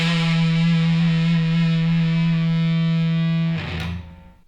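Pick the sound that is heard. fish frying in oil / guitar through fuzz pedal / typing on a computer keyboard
guitar through fuzz pedal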